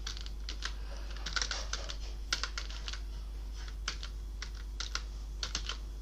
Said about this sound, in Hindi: यहाँ से बी टाइप कर लिया